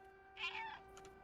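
A cat meows once in the video game Stray, a single clear, fairly close call over a steady electronic hum, with a faint second chirp just after.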